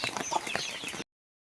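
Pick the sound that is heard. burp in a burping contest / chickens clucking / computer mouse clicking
chickens clucking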